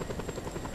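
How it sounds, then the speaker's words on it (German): A helicopter approaches in the open-world action game Just Cause 2, its rotor a steady, loud rhythmic thudding over a brief stretch with no talking. "Aber von rechts kommt noch ein Hubschrauber"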